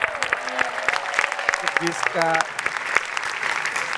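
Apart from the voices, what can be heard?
audience applause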